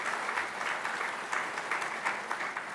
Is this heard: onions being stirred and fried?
no